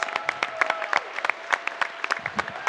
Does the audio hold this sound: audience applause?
yes